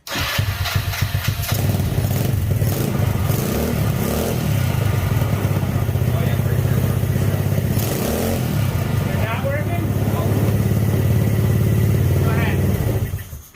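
A go-kart engine fires up and keeps running loudly with a steady low throb, after a brief burst of cranking at the start, holding at idle for the rest of the time.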